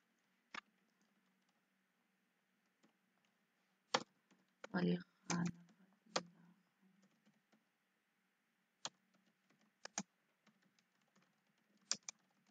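Sparse keystrokes and clicks on a computer keyboard while text is typed, isolated sharp taps with a short cluster midway, quiet and close, with faint speech in the background.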